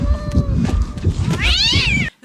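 Cat meowing in the TV series Interview with the Vampire, a long rising-and-falling meow near the end over a busy low background of music or rumble, ending abruptly.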